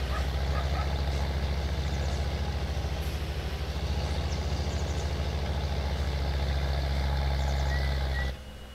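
A Magnum tractor engine idles steadily in Farming Simulator 19, a loud, constant low diesel drone with no talk, cutting off sharply near the end.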